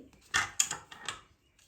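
Pressure cooker lid being opened after cooking bajra khichdi: a few sharp metallic clicks and clunks of the lid twisting and lifting, close by, in a short burst that then falls quiet.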